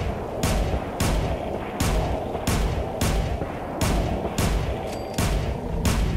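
Gunfire in the post-apocalyptic game Fallout 4, Nuka World: heavy, booming shots in a steady rhythm, roughly eight blasts each followed by a brief roaring tail, loud and close.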